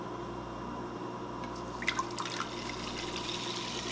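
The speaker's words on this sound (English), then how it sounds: "We're going to pour in our strained liquid." Strained spruce-tip liquid is poured into a cooking pan, making faint trickles and a few small splashes and drips halfway through over a quiet kitchen background.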